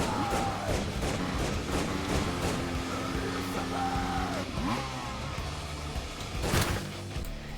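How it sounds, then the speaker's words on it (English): A dual-seat motorcycle engine in the game Motordoom revs and roars continuously, rising and falling in pitch with gear shifts and a brief clattering burst near the end, loud and up front. "drive around a dual-seat motorcycle doing tricks while your buddy is drinking and shooting enemies riding along"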